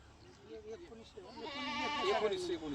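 Kathiawari goats bleat with wavering, nasal cries that grow louder and overlap near the end, mixed with people talking nearby at a goat sale.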